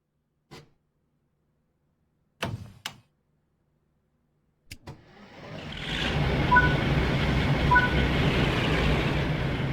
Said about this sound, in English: Start with the first engine.